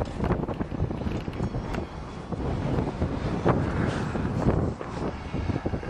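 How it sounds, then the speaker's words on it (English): Strong outdoor wind buffets the microphone continuously, a loud low rumbling roar with gusty surges throughout, near a motorcycle-powered dune buggy on a farm; no talking. "It's so windy out here, I'm trying to make sure it's not too muffled."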